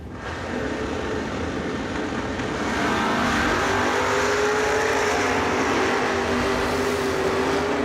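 A drag race car engine revs hard at the track as the throttle is gripped twice, a loud sustained roar that swells and holds with a rising whine, no talk over it.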